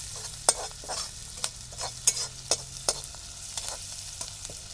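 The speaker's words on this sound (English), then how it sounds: "We'll stir it for some time with big spoon" Chilli chicken frying with green chillies, stirred with a big spoon: soft sizzling under a series of sharp scraping and tapping strokes against the pan at an uneven rhythm, close by with no talking.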